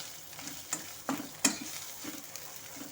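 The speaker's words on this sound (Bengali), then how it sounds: "এখন সমস্ত মশলাগুলো একটু ভালো মতো করে তেলের সাথে কষে নেব" Ground coriander, cumin and turmeric with ginger and green chilli frying in oil for a Bengali mixed-vegetable labra, a soft close sizzle with a few spoon knocks and scrapes against the pot.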